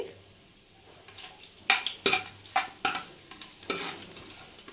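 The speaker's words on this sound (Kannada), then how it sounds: "ಈಗ ಮಸಾಲ ಪದಾರ್ಥ ಹಾಕಿದಾದ್ಮೇಲೆ ಒಂದ್ಸತಿ ಚೆನ್ನಾಗಿ ಫ್ರೈ ಮಾಡ್ಕೊಳ್ಳಿ." Whole spices frying in hot oil for fenugreek pulao, with a steady low sizzle and a series of sharp spoon scrapes and stirring clatters against the pan, close and fairly loud.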